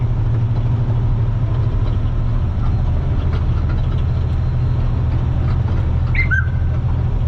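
Truck engine laboring up a hill on the I-17 northbound in Arizona at about 44 miles an hour, a loud, constant low droning rumble with steady road roar and a brief high squeak near the end.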